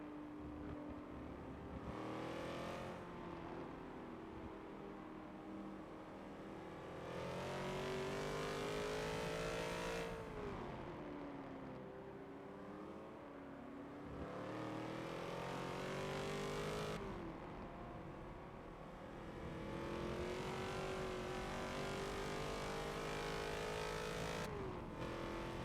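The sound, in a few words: race cars driving at Circuit de Spa in Forza racing game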